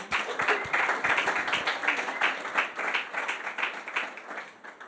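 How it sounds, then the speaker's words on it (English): Audience clapping for the hosts at a sports leadership book launch in an art gallery: a dense burst of applause right away that carries on steadily, then thins slightly toward the end, with murmured voices beneath. "Just clap for them, please."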